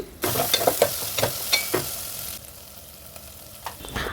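Ginger garlic paste frying with tomatoes in hot oil, a steady close sizzle broken by several sharp scraping stirs early on, then settling into a quieter fry.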